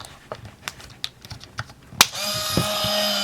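Motor of a Minolta Weathermatic Dual 35 film camera advancing film after a series of small clicks and taps, then a steady close whirring drone with a brief clunk partway through, alone without speech.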